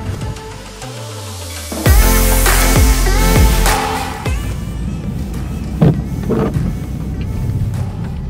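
A car starts moving and pulls away, a loud close engine and road rumble rising after a quiet start, with a few clunks inside the cabin as it drives off.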